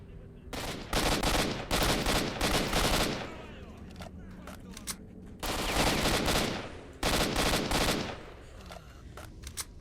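Gunfire in the video game STALKER: Shadow of Chernobyl comes in loud automatic bursts of several seconds each, with gaps between them holding quieter scattered shots and background noise.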